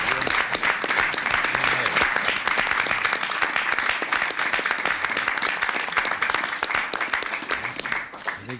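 A large audience claps and cheers steadily for the President at an event on federal energy reorganization, a dense, loud wash of applause running throughout.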